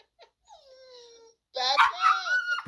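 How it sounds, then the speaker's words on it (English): An excited Chihuahua terrier mix dog gives high thin whimpering chirps, then a burst of louder yips and squeals, close and fitful with short pauses. "She chirps like a bird and gets so excited when she sees us"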